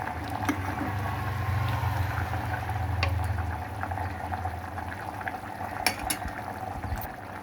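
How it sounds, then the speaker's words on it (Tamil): A pot of mutton bone curry with brinjal and mango bubbles and simmers steadily, a continuous low burbling with occasional small clinks of utensils, close by and without talk. "கொஞ்சம் கொதிக்கட்டும் குழம்பு"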